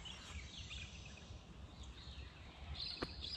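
Faint bird chirps scattered over steady outdoor background noise with a low rumble, one sharper call near the end, at night by the Murray River on Ulupna Island, Australia.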